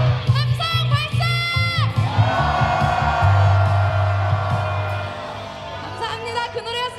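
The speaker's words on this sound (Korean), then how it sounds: "함성 발사." Loud crowd cheers and shouts at an outdoor political rally in Suwon, Korea, calling for a president's impeachment, with sustained roaring and whoops rising and swelling together for several seconds, mixed with bursts of voices.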